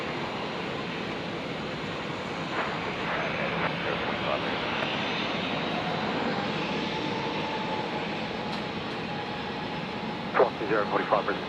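A fixed-wing airliner rolls for takeoff on runway 01 left at Brisbane Airport, a broad, steady engine roar filling the air at a distance, with a few sharp clicks and knocks near the end.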